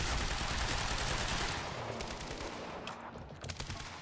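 Gunfire and a blast from the video game Quantum Break: dense, loud bursts of shots over the first second and a half, then a rumbling explosion tail that fades and flares again near the end.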